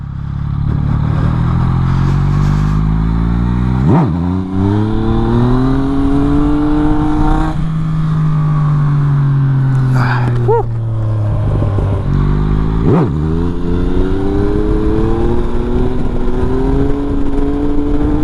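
A Yamaha MT-09 motorcycle accelerates hard while pulling a wheelie, its engine loud and close, climbing in pitch through several gear changes with brief dips between rising pulls.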